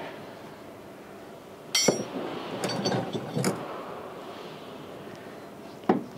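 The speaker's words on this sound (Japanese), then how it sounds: "ここがオイルパンドレンボルトですね。 ここにオイルが溜まってますんで緩めるんですけど。" A wrench loosens the oil pan drain bolt on a large truck in a workshop, giving a few sharp metallic clicks and ratcheting clinks up close over a quiet background.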